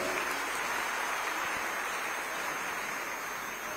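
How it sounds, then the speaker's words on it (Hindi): Applause for a community health worker at a government honour ceremony in Chhattisgarh, a steady, dense wash of clapping from a crowd, heard at a distance without any speech. "बढ़िया ताली दीदी पर।"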